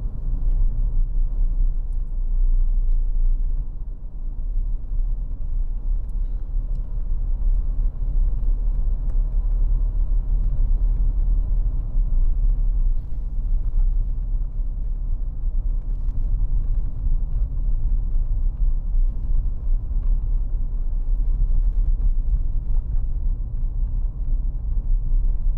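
A 2015 Dacia Duster 1.5 dCi diesel on a test drive, heard from inside as a steady low engine and road rumble holding constant throughout, with no voices.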